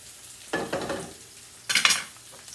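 Onion and garlic sizzling in a hot pan as they turn golden, two bursts of frying hiss and stirring close by, the second brighter and louder, over a quiet kitchen background with no talk.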